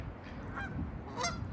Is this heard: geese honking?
yes